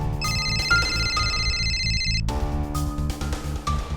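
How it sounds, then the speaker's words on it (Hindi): A phone rings with an electronic ringtone melody in two repeating bursts, steady and fairly loud. "कानपुर से शांतनु का फोन था"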